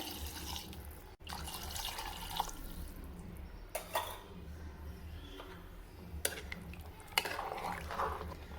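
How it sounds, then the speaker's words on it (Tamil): Water splashing and pouring into a pressure cooker with mutton for gravy, with intermittent bursts, clinks and stirring sounds, close by and fairly quiet, no talking. "ரெண்டு டம்ளர் தண்ணி சேர்த்துருக்கேன்"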